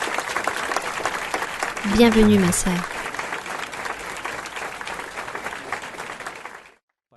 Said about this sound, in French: Voici un fort applaudissement pour notre Dieu et pour notre ministère.